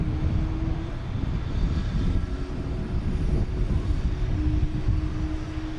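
Airliner jet engines roar steadily and loudly at Boston Logan Airport as planes queue for takeoff, a continuous rumble with no voices.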